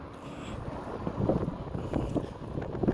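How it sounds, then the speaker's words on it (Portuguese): Wind blowing outdoors on a mild, breezy day, steady rumbling gusts buffeting the microphone with no talk. "Apesar de estar ventando,"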